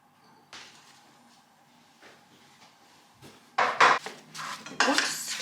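A spoon knocks and scrapes in a pot as apples are stirred over medium-high heat, starting with a few faint taps and building to louder, clattering strokes near the end, with no talking.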